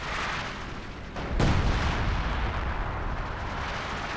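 Howitzer artillery fire in the video game Company of Heroes 2, a heavy booming blast at about one and a half seconds that rolls into a long rumbling decay amid ongoing battle noise.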